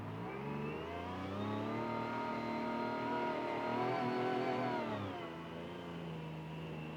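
A 2024 Yamaha YXZ off-road vehicle's engine hums steadily in first gear as it crawls slowly up a sandy wash, its pitch rising gently, holding, then easing off, loud and continuous.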